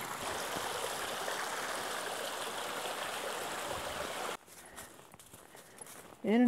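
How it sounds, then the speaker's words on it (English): A small mountain stream trickles and splashes steadily among rhododendrons on a trail to Mount Rogers, then fades as footsteps and faint rustling take over near the end. "That's a pretty little water source there."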